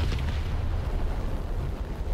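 In the War Thunder combat game an LA-7 fighter plane crashes and explodes, producing a heavy, rumbling boom that rolls on as a low, continuous roar with no voices over it.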